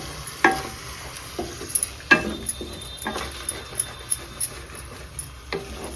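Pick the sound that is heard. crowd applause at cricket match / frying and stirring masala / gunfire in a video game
frying and stirring masala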